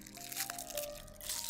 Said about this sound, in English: If you hear chewing noises in the background